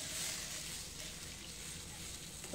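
Steaming water saved from steamed lauki kofte pours into a kofta curry, making a steady broad trickling wash that holds evenly throughout with no pauses.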